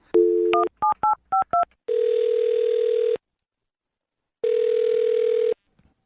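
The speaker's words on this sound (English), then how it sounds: "I'm going to dial her phone number right now" Phone number dialed on a telephone keypad, a quick run of rhythmic DTMF beeps followed by two long steady ringback tones separated by a gap of silence, loud and clear with no talking.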